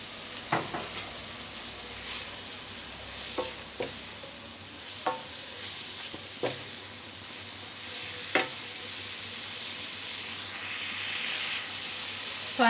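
Veg chowmein noodles stir-fried in a pan right after soy sauce goes in, giving a steady sizzle with a spatula scraping and tapping against the pan in irregular strokes.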